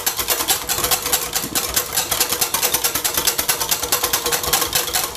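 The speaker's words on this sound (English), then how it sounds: "You can just simple give it a nice little whisk, because I have it in the bowl, I'm just whisk it in the bowl." Waffle batter being whisked in a bowl until frothy, a fast, steady rhythmic scraping and clicking that runs loud and continuous throughout with no talking.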